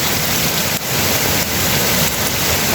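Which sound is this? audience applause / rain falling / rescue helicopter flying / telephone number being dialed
rain falling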